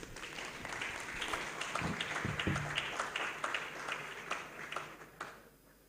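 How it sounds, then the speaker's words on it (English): A round of applause at an architects' institute annual general meeting, a fairly faint, distant scattering of clapping from a hall audience that builds and then tapers off. "Please make her welcome with a round of applause."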